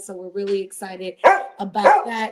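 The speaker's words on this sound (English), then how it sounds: "Guys, excuse my dog." A pet dog barks sharply a couple of times in a room, close by, over a person talking.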